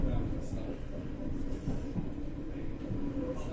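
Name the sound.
GWR Class 230 battery train arriving at West Ealing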